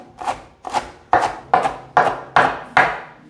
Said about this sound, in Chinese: 接着把高丽菜切碎